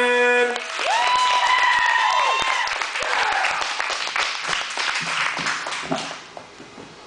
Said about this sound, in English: Please be sure to give a big round of applause